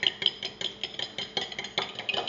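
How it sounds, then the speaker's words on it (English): A fork lightly whisking eggs into milk in a bowl for Halloween cupcake batter: quick, quiet, rhythmic clinks and taps of metal against the bowl, repeating steadily throughout. "So put them all together and then just with a fork just lightly whisk them"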